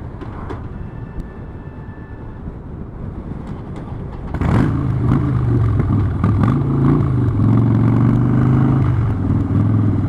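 Harley-Davidson Street Bob motorcycle that keeps stalling, its engine held at revs and then opening up louder midway, a steady close rumbling drone with a rising growl and no talking.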